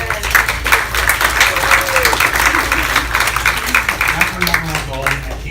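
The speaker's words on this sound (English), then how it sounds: "So please, round of applause for Carlos." Audience at a condo and HOA board certification class applauding for a presenter, steady clapping throughout with a low hum and some voices mixed in.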